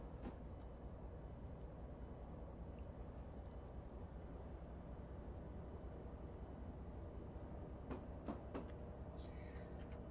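A train runs steadily in the Train Life railway simulator game on the way to a coal mine, a continuous low rumble of wheels and engine with a few faint clicks toward the end, with no talking.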